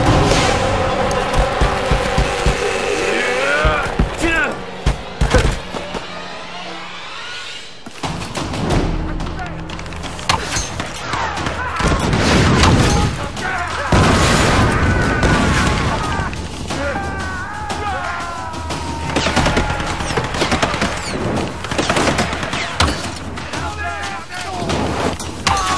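Gunfire in the Tomb Raider video game, loud repeated shots and impacts over busy game sound, with people talking excitedly throughout.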